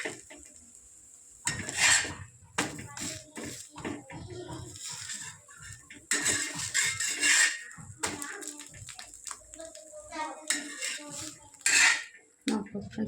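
A metal utensil clinks and scrapes against a pan while food is cut into halves, giving repeated bursts of clatter in an irregular rhythm with quieter gaps between them.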